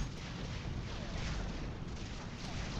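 A grenade blast in the video game Mass Effect 3, a dense, sustained booming rumble of combat explosions filling the scene at steady loudness throughout.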